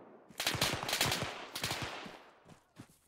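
Rapid bursts of automatic gunfire in Arma 3, several close volleys in quick succession, then a few scattered single shots trailing off, with no talk over them.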